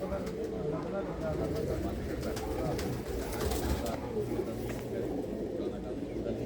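Pigeons kept by a long-time Punjabi pigeon fancier coo continuously in a close, dense chorus, with voices of people talking mixed in under the steady calling.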